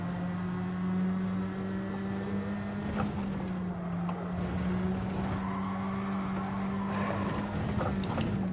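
A GT4 Open race car in Gran Turismo 7 drifts sideways during lobby racing, its tyres squealing over a steady, droning engine note, with the screech rising and fading in patches.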